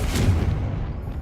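Confringo fire-blast spell cast in the game Hogwarts Legacy, a loud, dense booming burst that rumbles heavily in the low end and fades gradually over about a second.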